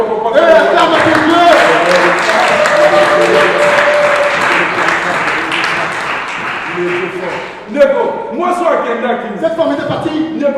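Church congregation applauding and cheering during a French-language sermon, a dense, sustained wash of clapping and voices that briefly dips and then surges back, with singing or shouting mixed in.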